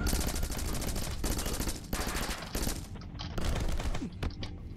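Dense, loud bursts of gunfire from the side-scrolling video game Rocket Birds: Hardboiled Chicken, shotgun blasts among them, firing almost continuously over a music bed with no talking.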